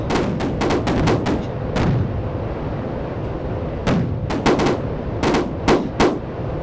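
Anti-aircraft gunners fire in the Strike Fighters 2 flight sim as rapid bursts of sharp gunfire crack in clusters over a steady jet rumble, pause, then return in several more short volleys.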